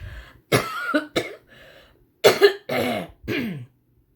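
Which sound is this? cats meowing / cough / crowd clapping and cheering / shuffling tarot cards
cough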